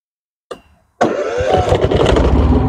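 A Yamaha EF6300iSED carbureted generator engine cranks briefly, pauses, then catches and settles into a loud, close, steady running roar.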